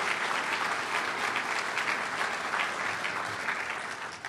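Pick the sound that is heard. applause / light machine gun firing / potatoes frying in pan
applause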